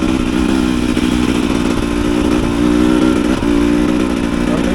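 A 2022 Husqvarna TX 300 dirt bike engine running loud and close, a steady raspy two-stroke drone with slight rises and dips in revs.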